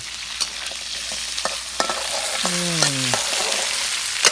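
Chopped crab pieces hit a hot pan for a curry-powder stir-fry, giving a steady loud sizzle and crackle with a few clanks of the utensil against the pan as it is stirred.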